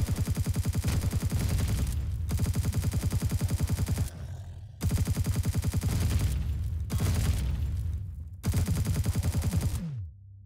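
A sentry turret fires in the space survival game Empyrion Galactic Survival, loosing long bursts of rapid, evenly spaced shots separated by brief pauses, ending on a falling mechanical whir.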